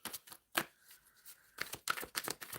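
Tarot cards being shuffled by hand give quiet riffling and soft flicks in short bursts, with a brief pause in the middle, close and faint.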